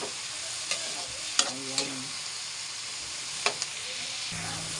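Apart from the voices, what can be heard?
tomatoes frying and being stirred in a pan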